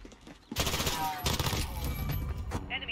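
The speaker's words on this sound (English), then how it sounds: "How did he shoot me with a machine gun when he had a rocket launcher out?" Machine gun fire in a Call of Duty Modern Warfare gun game team deathmatch, a loud sustained burst starting abruptly and rattling on for a couple of seconds, with a faint voice underneath.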